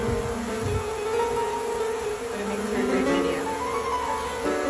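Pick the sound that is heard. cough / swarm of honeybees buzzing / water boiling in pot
swarm of honeybees buzzing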